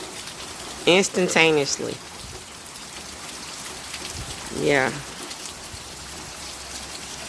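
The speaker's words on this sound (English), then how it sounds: "Look how the wind and the rain picking up." Steady rain and wind from Hurricane Sally in Alabama hiss as a constant broadband wash throughout, with a voice speaking briefly over it twice.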